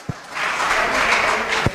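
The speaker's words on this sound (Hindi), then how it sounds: "एक बार आदरणीय अध्यक्ष जी के लिए जोरदार तालियां बजाएं" Brief burst of audience applause for the chairman at a Hindi poetry recitation, a dense wash of clapping lasting under two seconds with a couple of sharper claps near the start and end.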